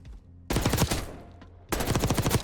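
Automatic gunfire in the Black Ops 6 firing range: two loud, close bursts of rapid shots, the first about a second long, then a short gap with faint clatter and echo, then a second sustained burst.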